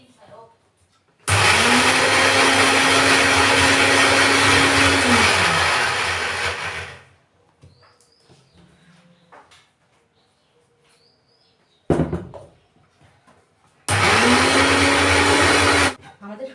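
A mixer grinder grinds mustard seeds with green chillies and a little salt in loud, close whirring bursts. One long run spins up and winds down, followed by a quiet gap with faint sounds and then two short pulses.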